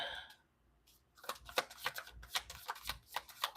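Tarot cards shuffle close by during a reading, a quick run of crisp riffling flutters and soft taps in an even rhythm after a brief pause, fairly quiet.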